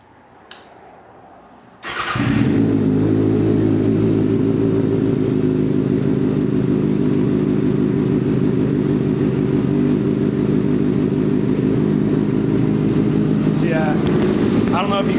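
A 2026 Kawasaki ZX6R motorcycle fitted with an M4 slip-on exhaust fires up after a quiet moment, then settles into a loud, steady, rumbling idle that continues close by for the rest of the clip.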